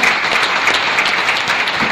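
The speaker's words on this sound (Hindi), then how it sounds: "एक जोरदार तालियां आपके लिए भी करने वाले हैं" Loud, continuous applause from a training-seminar audience as guests are called up onto the stage, a thick unbroken roar of many hands clapping at close range.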